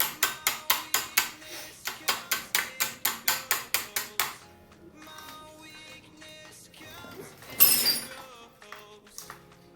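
Bolts are tightened on a reassembled car clutch. An impact tool gives about seventeen quick, evenly spaced bursts up close, followed by quieter metallic handling and one louder clank.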